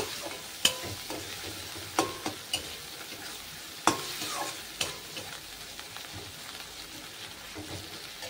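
Chopped tomato is stir-fried with fish roe masala, a quiet sizzle under intermittent spatula scrapes and knocks against the pan at an uneven pace, and nobody speaks.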